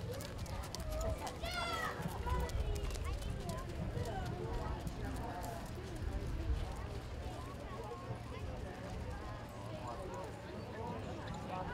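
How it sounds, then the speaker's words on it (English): Western-class horses jogging around a 4-H fair show arena, soft rhythmic hoofbeats on footing under a loudspeaker announcer and scattered voices, with a horse's whinny or squeal rising briefly near the start. "Trot your horses, please."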